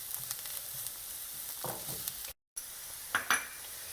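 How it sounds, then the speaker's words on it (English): Spices with chili powder frying briefly in hot oil in a pan, a close, continuous light sizzle with a few utensil clinks and scrapes, no voices, interrupted by a short silent gap. "You can just let the spices fry quickly, 10-15 seconds."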